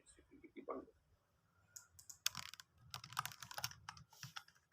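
Quick bursts of clicking come from a computer mouse and keyboard during a programming lesson, close and fairly faint, in clustered runs with short gaps. A voice speaks quietly in the background.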